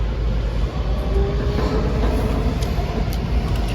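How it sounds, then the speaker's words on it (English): A Washington metro train rumbles steadily and loudly at close range as it departs the station, with a faint rising whine from the motors. "As soon as the doors closed, the train started."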